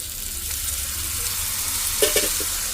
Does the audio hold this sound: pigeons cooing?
no